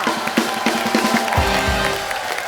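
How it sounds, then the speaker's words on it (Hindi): A studio audience at The Kapil Sharma Show, an Indian comedy TV show, applauds in a steady dense wash of clapping and crowd noise, with a brief low boom partway through. "एक बार ब्रावो और रवीना के लिए जोरदार तालियां"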